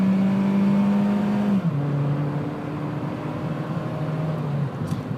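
A 2007 Honda Fit Sport engine droning steadily under acceleration, then dropping pitch abruptly as it downshifts and continues, heard close from inside the car without talk.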